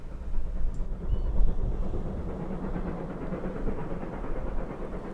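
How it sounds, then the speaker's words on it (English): Steam locomotive Raveningham Hall hauling the Quantock Belle train uphill on the West Somerset Railway, a deep, rolling rumble that swells and eases, heard from the lineside, with low engine and wheel noise dominating. "Raveningham Hall brings the Quantock Bell train back up the line in fine style."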